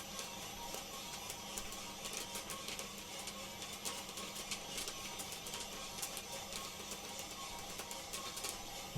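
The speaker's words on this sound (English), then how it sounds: "Really good first crack going on here now." Washed Ethiopian Limu coffee beans pop through first crack inside a Golden GR1+ roaster, quick scattered cracks over the machine's steady whirring drone, with no one talking.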